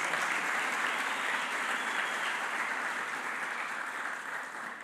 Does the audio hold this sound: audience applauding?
yes